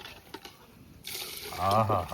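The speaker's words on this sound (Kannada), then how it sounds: "ಹಾಕಿ ನೀರು ಹಾಕಿ, ಇನ್ನೂ ಹಾಕಿ ಬೇಯಬೇಕು." Water is poured into a large pot of cooking mutton (3 kg of sheep meat), a close, rising splash and gurgle that follows quiet talk in the kitchen.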